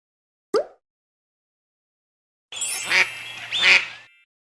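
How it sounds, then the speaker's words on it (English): Two loud cartoon duck quacks stand alone, each separated by silence, with a brief short call just before them. "duck"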